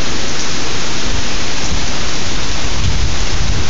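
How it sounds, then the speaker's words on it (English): Heavy hurricane rain and gusting wind from Hurricane Irene batter a balcony in Richmond, Virginia, a loud, dense, continuous roar of driving water and wind with no letup and no voices. "She has rain flying north, south, east, and west"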